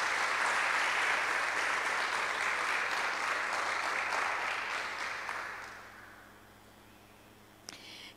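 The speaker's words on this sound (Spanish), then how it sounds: "dele una alabanza de palmas al que vive" A church congregation claps together during a worship service, a dense, loud burst of applause that holds steady and then fades away over several seconds, ending in near quiet with one faint knock.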